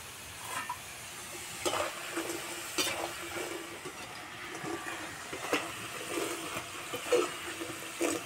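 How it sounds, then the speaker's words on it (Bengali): Crispy fried potatoes stirred in a pan, giving soft irregular scraping and rustling strokes with a faint sizzle underneath, fairly quiet and spread across the whole stretch with no talking. "আওয়াজ শুনে বুঝতে পারছো কতটা মুচমুচে হয়েছে"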